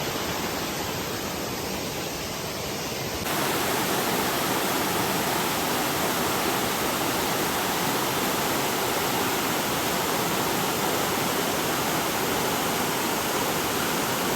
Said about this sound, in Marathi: हा बघा हा धबधबा